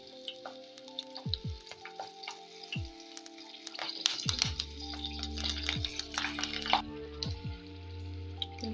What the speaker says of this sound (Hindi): अभी मैं कुछ हरी मिर्चें फ्राई कर लूँगी